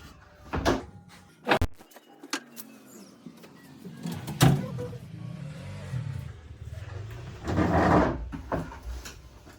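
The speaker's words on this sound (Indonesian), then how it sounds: "di sini saya sudah menutup sampiran dan juga pintunya Ibu" A privacy curtain and a door are closed in a clinic consultation room, heard as several sharp knocks and clicks, a scraping slide and a door shutting amid low room rumble, with no talk.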